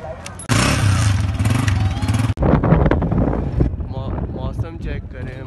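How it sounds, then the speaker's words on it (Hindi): A motorbike engine runs loudly and steadily as it is ridden on a road in Karachi, with a short dip partway through and heavy wind rush over the microphone, then eases into a lower, quieter drone. "फिर बाइक स्टार्ट करें"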